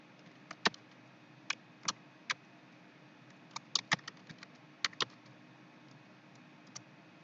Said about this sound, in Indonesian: misalnya saya akan mengetik